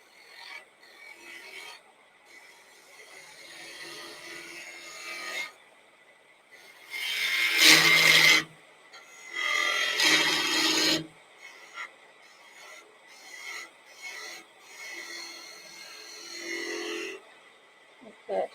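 Wood is turned on a lathe while its bulk is removed, rough scraping and cutting bursts coming in uneven spells, two of them loud and sustained, between quieter stretches with faint background noise.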